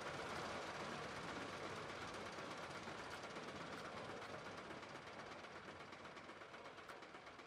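A ride train in a Planet Coaster theme park runs continuously with a steady rolling rumble and faint rhythmic clatter, fading slightly toward the end, with no talk.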